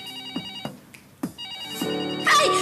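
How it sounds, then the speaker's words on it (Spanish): Telephone ringing indoors, a tonal electronic ringtone with repeated chimes and short pulses over about two seconds, growing fuller and louder at the end, without speech. "¡Está sonando el teléfono!"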